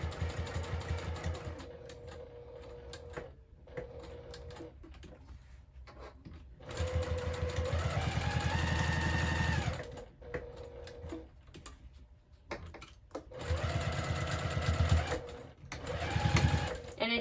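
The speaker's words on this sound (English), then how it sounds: "And we'll just go ahead and sew all the way around at a 1/4 inch seam allowance." Sewing machine stitching a quarter-inch seam around a fabric-scrap minimalist wallet, running in several steady bursts of rapid mechanical whirring separated by brief pauses, close and clear.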